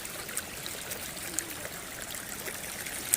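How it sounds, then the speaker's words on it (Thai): A small stream of water flows outdoors with a soft, steady babbling trickle, moderately close and unbroken, with no talking. "มีเป็นทางน้ำนะคะ"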